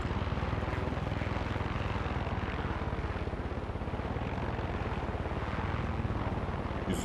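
An aircraft engine in Far Cry 6 drones loudly and steadily as the craft comes in to land, a constant propeller-like roar with no talk.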